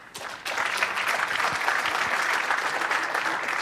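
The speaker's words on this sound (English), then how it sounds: "Please give him a big round of applause." Audience applause for a speaker at the FOSDEM 2017 open-source conference, with a brief lighter patter that swells at once into steady, dense clapping from a large crowd.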